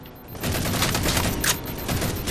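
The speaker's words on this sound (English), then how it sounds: "Why is this guy shooting me?" Rapid video game gunfire from Halo 4 in a Capture the Flag match crackles continuously at moderate loudness, shots blending into a dense burst with no clear talk over it.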